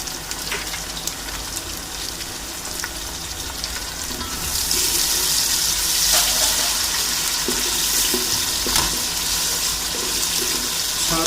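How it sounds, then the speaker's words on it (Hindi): Water poured into a sizzling pan of onion, ginger and tomato masala, the steady frying hiss swelling brighter and louder partway through as the liquid hits the hot pan, with faint stirring clicks and no talk. "साथ थोड़ा सा पानी डाल दें"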